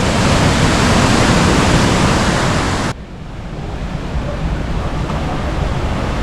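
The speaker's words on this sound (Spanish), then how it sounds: "de aquí al río Guadiaro es impresionante la fuerza que lleva el agua" The Guadiaro river rushes in a loud, dense, continuous roar of fast-flowing water near Benaoján station. It drops abruptly to a softer, steady wash partway through, with no voices.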